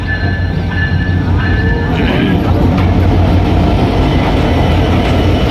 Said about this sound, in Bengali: খুব তাড়াতাড়ি ট্রেন চলে আসলো